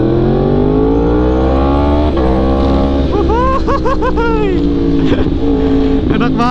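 A Yamaha R1M sportbike on launch control holds a loud, close engine at high revs, then sweeps upward in several quick rising rev surges with crackly bursts between them, continuous and harsh throughout.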